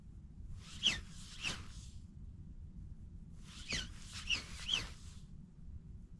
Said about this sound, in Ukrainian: тільки чуть десь фазани кричать, десь качки крякають